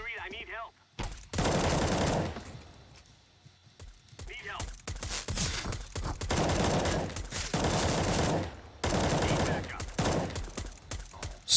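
Pistol gunfire in a video game comes in several dense bursts of rapid shots separated by short quiet gaps, fairly loud and close.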